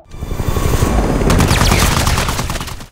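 Dense burst of gunfire in an action film fight scene, loud and continuous, with rapid overlapping shots and a heavy rumbling low end like automatic weapons and explosions filling the whole moment.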